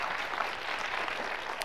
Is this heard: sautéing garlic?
no